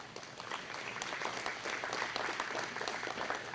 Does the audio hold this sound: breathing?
no